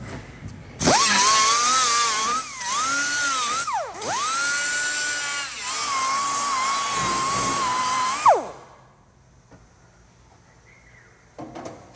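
A power tool whines steadily as it deburrs the metal edges of a custom truck bedside panel for a 1956 Ford F100. The loud, high-pitched grinding runs for several seconds with brief dips in pitch, then cuts off abruptly into quiet.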